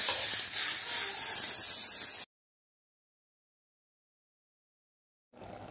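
Curry leaves go into hot oil with dried red chilies and asafoetida, producing a bright hissing sizzle for about two seconds, then a cut to silence before the frying briefly returns.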